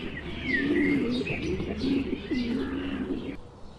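Pigeons coo softly and repeatedly while feeding on grain, a continuous warbling murmur at close range with faint chirps layered over it.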